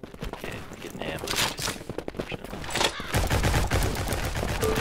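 Rapid gunfire in the farming shooter video game Shotgun Farmers, a dense volley of shots that builds into heavier sustained firing in the second half, loud and close.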